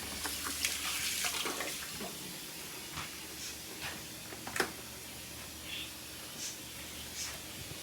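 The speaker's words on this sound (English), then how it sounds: "I'm going to put a little bit more water in there" Hot water runs into a canning pot holding jam jars, a steady, fairly quiet hissing stream with a few faint clicks and taps scattered through it.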